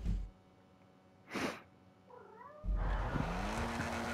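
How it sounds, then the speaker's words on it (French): A cat meows with a brief wavering caterwaul near the middle, set among louder bursts of noise and a rising tone, with no one speaking. "on commence pas à miauler, toi"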